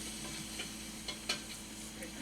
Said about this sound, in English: Oh man, you see that sizzling away?